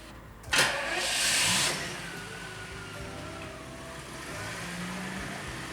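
A car engine turns over and catches with a brief burst, then settles into a steady low idle that runs alone, with no talking.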